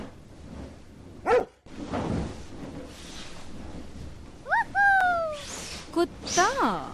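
A dog barks a few times in short, sharp bursts, close and fairly loud, with talking in the background between the barks.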